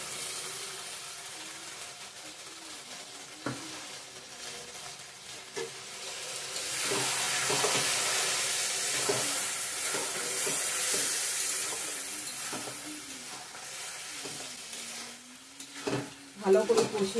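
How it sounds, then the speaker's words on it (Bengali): Chicken curry spice paste with ripe chilli and tomato paste sautéing in a pan, a steady sizzle with periodic scraping stirs and a few clanks of the spoon against the pan. "পেস্ট করা মশলাটা দিয়ে দেবো, দিয়ে ভালো করে কষিয়ে নেব।"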